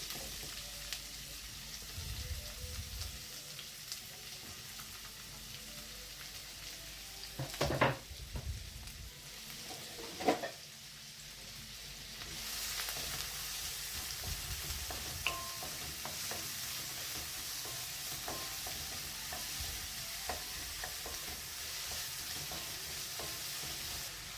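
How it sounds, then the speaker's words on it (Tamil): Chopped vegetables, onions among them, sauté in a pan for a morning meal, a moderate steady sizzle with intermittent stirring scrapes and a few louder clanks, no one speaking. "கட் பண்ணி வச்சுருக்க எல்லாத்தையும் போட்டு வதக்க வேண்டியது தான்"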